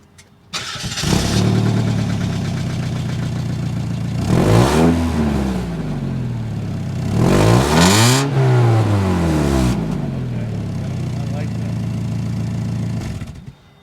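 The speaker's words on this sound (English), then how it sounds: "so that is a nice sounding exhaust on this thing" A 1992 Mazda Miata engine fires up, then idles with a deep exhaust rumble, revving sharply twice before settling back and cutting off.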